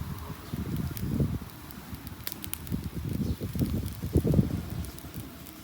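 A bonfire burning outdoors on a windy day, crackling and popping in irregular bursts over a low steady rumble of wind, with occasional faint rustling nearby.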